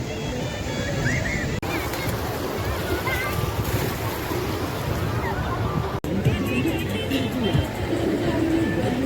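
Sea waves wash steadily onto the shore at Digha beach, a broad continuous surf roar with a crowd's hubbub and boat noise mixed in, loud and close throughout.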